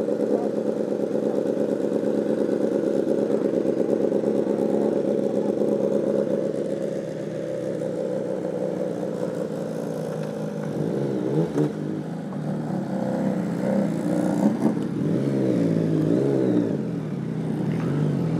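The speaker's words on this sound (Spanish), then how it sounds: "ahí está sonando la MT, un sonido chévere, un tricilíndrico agradable" A Yamaha MT-09 SP three-cylinder motorcycle engine runs steadily nearby with a low, throaty drone, easing off briefly midway and then picking back up with slight revving.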